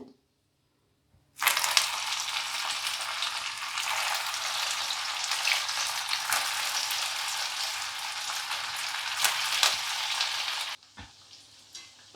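A fresh batch of poha and potato fingers drops into hot oil on lowered heat, bursting into a loud, dense, steady bubbling sizzle after a brief quiet start, then cutting off to faint crackles at the end.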